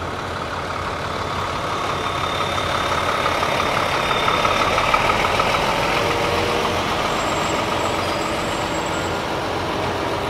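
A Rosalia Indah coach bus engine rumbles steadily at moderate loudness while the bus boards a ferry at Merak port, a continuous low drone with mechanical whine and no clear speech.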